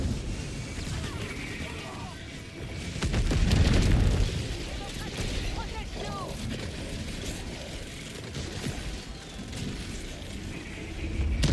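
A grenade explodes in a Call of Duty zombies match, a heavy low boom rising through the busy gameplay clatter of gunfire and effects, with players talking throughout.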